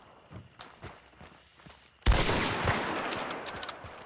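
In the Borderlands shooter, scattered gunfire with fire-ammo tracers crackles at a moderate distance, then a loud hit lands and leaves a dense, roaring burst of noise that slowly fades.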